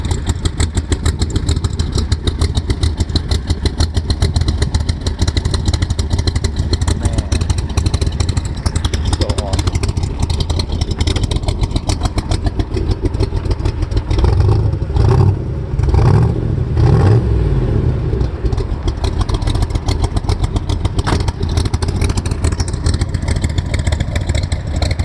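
A 1965 Corvette convertible with a big-block engine runs steadily close by, a continuous low rumble, with music and voices faintly audible over it.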